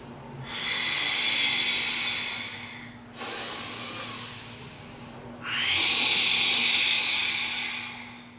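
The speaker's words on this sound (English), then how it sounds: "That's your Ujjai breathing." Ujjayi breathing through the nose with lips closed: long, forceful, hissing breaths, close to the microphone. A brief shift is followed by another loud, raspy exhale, with no talking.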